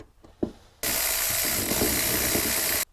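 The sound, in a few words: ratchet loosening carburetor bowl nut on Powerland generator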